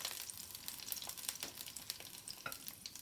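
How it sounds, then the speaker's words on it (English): Sausages sizzle and crackle steadily in olive oil in a hot pan, a quiet, close frying sound with small pops and no talking. "It's only the olive oil in the bottom that I use for frying these off."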